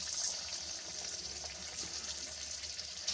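Jujubes (kul) sizzling in hot oil over low heat for pickle, a steady, soft frying hiss with faint crackles, close and quiet throughout.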